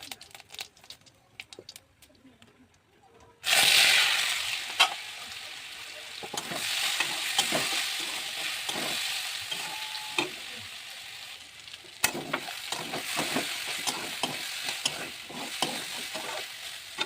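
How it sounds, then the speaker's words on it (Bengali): Cumin seeds and dried red chilies hit hot oil in a village home kitchen. After a few quiet seconds, a sudden loud, steady sizzle starts and continues, broken by stirring scrapes and taps. "আমি তেল দিয়ে জিরে আর লঙ্কা দিয়ে দেবো।"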